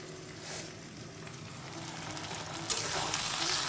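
Chopped onions and green chilies fry in a pan while being stirred, a soft, even sizzle that grows fuller and brighter toward the end, with one small knock of a utensil.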